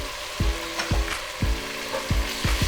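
Tomato puree hitting browned garlic in a pan over a medium flame, frying with a steady close sizzle broken by several sharp scraping stirs, with no talk.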